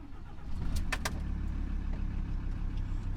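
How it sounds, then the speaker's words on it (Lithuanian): A car engine runs just after starting, a steady low idle hum close by, with a couple of brief mechanical clicks early on. "Pakūrė mašinytę, va, pažiūrėkit, kaip gerai kurias."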